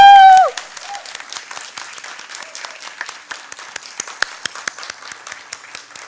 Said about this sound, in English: May I please request all of you to give her a standing ovation.